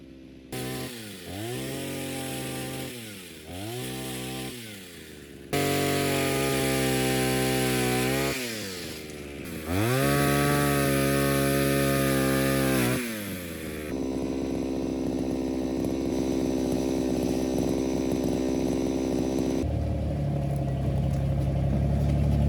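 A chainsaw cutting branches in a forest, the engine revving up and down repeatedly, then holding long loud stretches as it bites through the wood, close and unbroken by speech.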